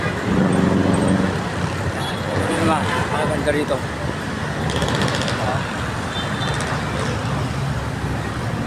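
Road traffic with cars and other vehicles passing along a city-bound road in Antipolo, a continuous loud rumble and whoosh of engines nearby while a person talks over it.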